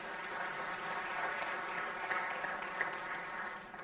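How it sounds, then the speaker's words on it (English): Steady, moderately loud applause rises from the floor of the Georgia Senate chamber, a dense patter of many hands continuing for nearly four seconds without a break. "Everybody give Corey a round of applause"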